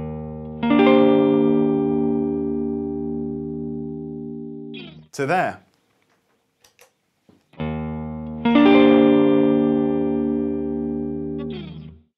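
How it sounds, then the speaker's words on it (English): An electric guitar playing a tone through a Strymon Flint reverb pedal set to its 70s mode plays sustained, ringing chords that trail off into reverb, with a short bend in the middle and a few words spoken during a pause. "we're gonna add just a little bit of reverb"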